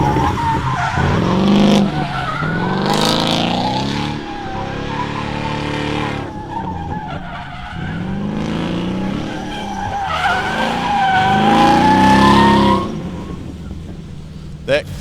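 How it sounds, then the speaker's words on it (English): A drift car starts its run at Meremere Drift Park during MSC Challenge NZ qualifying, with a loud engine rising and falling through repeated revving surges and tyre squeal, while a commentator talks over it. "Very slow start there from David Chen"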